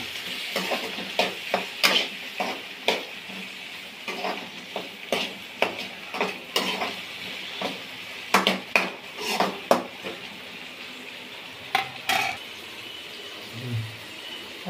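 Tomatoes deep frying in a pan are stirred with a utensil, producing a steady sizzle under repeated metallic scrapes and clinks against the pan, fairly close and without talk.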